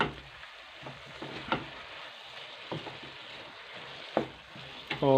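Vegetables for macaroni being stirred and fried in a pan, a soft steady sizzle with scattered scraping and clinking of a spoon against the pan, moderately close and without talk.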